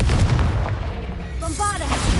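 A Confringo blast spell fires in Hogwarts Legacy, a loud booming burst over dense game noise with rumbling low end, followed by brief whooshing tonal sweeps of magic.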